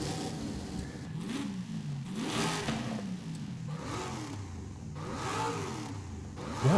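Engine of a Pontiac Firebird in Forza Horizon, swapped for a 7-liter V8, revving in repeated rising and falling pulls, fairly loud and steady throughout with no talk.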